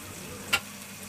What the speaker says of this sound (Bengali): এবার কষানো মশলার সাথে আলু কুচিগুলো দিয়ে দিচ্ছি, আর দিয়ে দিচ্ছি বেগুনের কুচিগুলো।